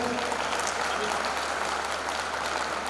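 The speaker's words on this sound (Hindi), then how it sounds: "एक बार मंच के लिए तालियां बजा दीजिएगा।" An audience at a Hindi poetry gathering claps for the stage, a steady, even wash of applause at moderate volume holding constant throughout.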